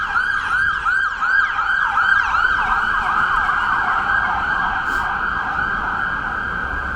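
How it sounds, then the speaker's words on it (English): An ambulance siren wails loudly nearby, its pitch sweeping up and down in rapid repeating cycles, with traffic rumble underneath. "We've got an ambulance car here."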